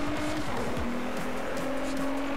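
A Renault R.S. 01 sports car engine in the racing video game Driveclub revs and roars continuously, the pitch rising and falling as it accelerates, with a faint tire squeal, loud and close.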